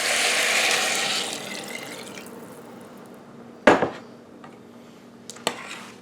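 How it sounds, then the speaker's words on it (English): Water pours steadily into a pot at first, then fades; later two sharp metallic clanks ring out, a few seconds apart. "And put my water in here."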